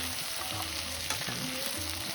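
Coconut, tomato and coriander frying in a pan for avarekalu sambar masala, a steady close sizzle with faint stirring scrapes throughout.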